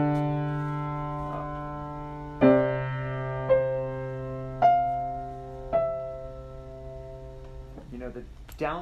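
Out-of-tune piano plays a slow bass line in C, each chord tone approached by an appoggiatura on the downbeat, a handful of ringing struck notes decaying alone in a quiet room.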